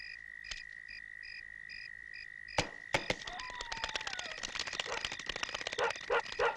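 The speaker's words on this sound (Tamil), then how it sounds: "நாய் குலைக்கிற சத்தமும் பறவை பறக்கிற சத்தமும் தான் கேக்குது" Dogs barking at night in a film scene, a rapid series of sharp barks and yips that starts after a quiet stretch of insect or frog chirping and then continues fairly close.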